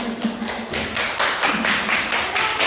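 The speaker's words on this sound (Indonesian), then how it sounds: "Tepuk tangan untuk kelompok 1" A classroom of students claps for a presenting group in a school lesson, a short burst of loud, slightly uneven hand claps, close by and without talk.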